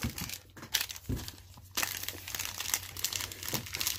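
A Panini Select football card pack wrapper is torn open and crinkled close up, giving several seconds of sharp, continuous foil crackling and rustling with brief louder crunches.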